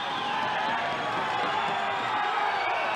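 Steady, loud cheering from a packed kickboxing crowd, with whoops and shouts riding on a constant roar that holds throughout.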